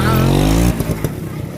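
A motorcycle engine revs hard for under a second, then drops into an uneven, sputtering idle with loud, close clatter.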